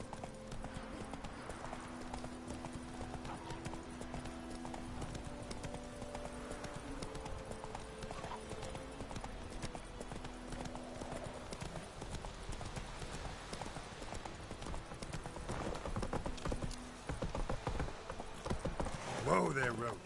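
Hooves of the horse Roach clip-clopping at a steady walking rhythm in The Witcher III, fairly quiet, with a voice speaking over parts of it and a brief snort toward the end.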